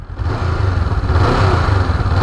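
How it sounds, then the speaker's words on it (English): A 2019 Honda CB500X motorcycle engine runs close by, its steady low rumble rising slightly as it revs, with no voices. "as the revs go up, you can see it go up there"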